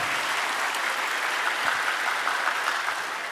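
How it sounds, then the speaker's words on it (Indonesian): An audience at an Indonesian organisation's national meeting applauds, a dense, even wash of clapping from many hands, steady and moderately distant, fading slightly at the end. "Tepuk tangan buat beliau."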